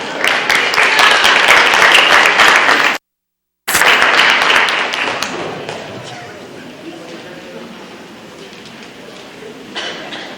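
An audience applauds students being recognised at a school board meeting, with dense, loud clapping that briefly cuts out and then tapers off into scattered claps and room noise.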